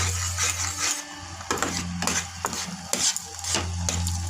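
Semolina lightly roasting in a pan for a milk-and-bread sweet, stirred with repeated scraping strokes and soft dry rustling over a steady low hum, close and moderately loud.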